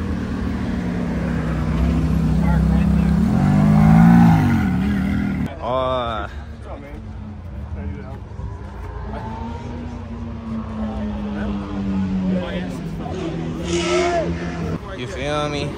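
A car pulls back at a night car meet, its engine rising to a louder rev and then falling away into the crowd's chatter, with voices talking throughout and other engine noise in the background.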